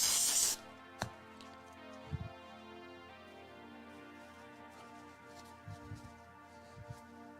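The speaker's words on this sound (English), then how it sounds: "for this one, we can spray a little bit" A short hissing blast from a spray can or bottle at the very start, brief and close, followed by quiet room tone with faint taps and handling sounds.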